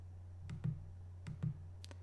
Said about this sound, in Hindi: हम इसको राइट क्लिक करते हैं